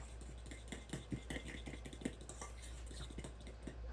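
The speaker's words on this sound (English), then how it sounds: "you're going to mix this around really well so there are no clumps left" An oil and nectar mixture for peach cake being stirred in a bowl, with quick, faint clinking and scraping strokes in an irregular rhythm over a steady low hum.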